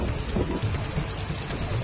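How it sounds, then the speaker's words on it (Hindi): Heavy rain pours down across Delhi NCR, a steady, dense hiss of falling water with low rumbling underneath, continuous and fairly loud throughout with no voices. "दिल्ली एनसीआर में तेज बारिश शुरू हो गई है।"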